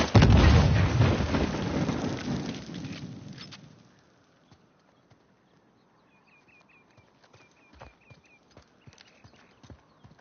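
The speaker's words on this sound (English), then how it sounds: "Well, looks like Nadine hasn't given up on excavation by explosions." In Uncharted 4: A Thief's End, a deep, rumbling explosion roars up close, then fades over a few seconds into quiet, followed by scattered clip-clop footsteps and faint chirps.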